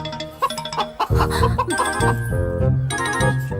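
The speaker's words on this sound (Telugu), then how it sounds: "ఇక్కడెక్కడో కోడి సౌండ్ అనిపిస్తుంది" A chicken clucks with short, uneven, fairly loud calls, mixed with busy background music and other sounds.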